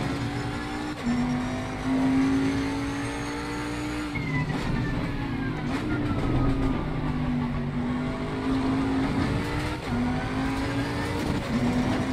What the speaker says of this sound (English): Never heard a car on the limiter before.